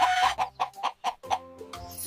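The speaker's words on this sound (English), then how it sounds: "Who's crowing in the morning? It's a rooster." Rooster vocalisation, a close series of rapid clucking bursts that ends in a short crow-like call, heard alone without talk.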